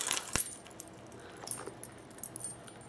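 A bunch of keys jangling and clinking close by, a sharp metallic rattle at the start followed by lighter scattered clinks, with no one talking.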